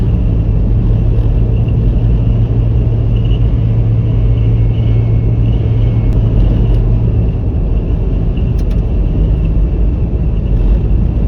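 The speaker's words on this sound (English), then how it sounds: "Grenadier did a fantastic job towing the camper trailer." An Ineos Grenadier tows a light camper trailer along a dusty road in the Flinders Ranges, a steady loud rumble of engine and road noise with a low drone throughout.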